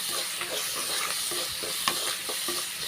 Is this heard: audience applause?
no